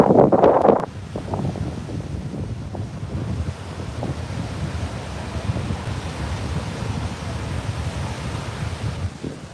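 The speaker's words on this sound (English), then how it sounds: "Still super windy." Strong wind buffets the microphone on a beach at sunrise in Playa del Carmen, Mexico, a continuous loud rumbling roar with a heavier gust at the very start and no talk.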